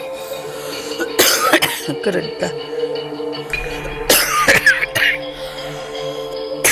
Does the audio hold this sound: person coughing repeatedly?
yes